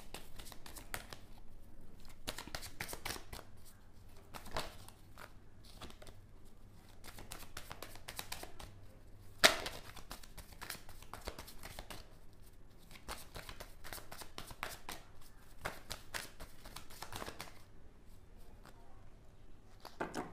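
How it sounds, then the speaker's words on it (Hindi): Tarot cards are shuffled and drawn by hand in a steady series of soft riffling, tapping and crinkling sounds, close and quiet, with one sharper slap of a card near the middle and no talking. "मैं तब तक एक कार्ड निकालती हूँ"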